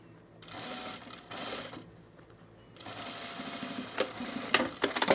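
Sewing machine stitching a seam on a boho tunic, bursts of rapid mechanical whirring separated by short pauses, close and fairly quiet, with a few clicks at the end.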